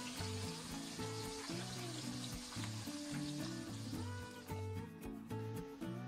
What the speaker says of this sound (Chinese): 我们炸到外皮酥脆，南瓜条飘起就可以捞出控油了。